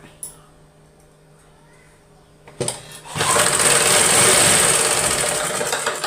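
A sewing machine stitches a blouse, starting after a quiet stretch with a few clicks, then running in a steady, loud mechanical whir for several seconds close by.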